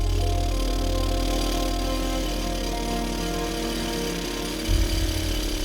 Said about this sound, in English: He's going to drill 3-meter and 4-meter long bolts into the rocks to fasten